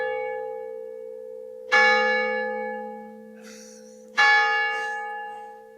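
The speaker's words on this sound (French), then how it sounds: "la cloche se mette à sonner" Church bell struck twice, each loud clang followed by a long ringing decay, heard indoors over a steady electronic hum during a ghost-detector test.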